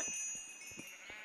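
Sheep on a Minecraft sheep farm, a few faint, short bleats repeating quietly against a steady background hum.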